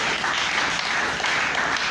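A church congregation claps together in praise during a French-language service, a dense, steady wash of hands throughout the short stretch with no voices standing out.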